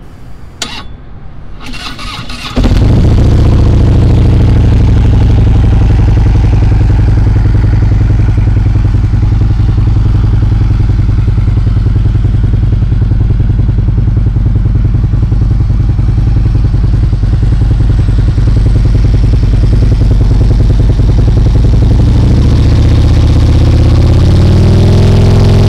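After a few seconds of clatter, a Harley-Davidson Tri-Glide Ultra Classic trike engine with 32,000 miles fires up and runs loud and steady nearby, a deep throbbing idle holding to the end.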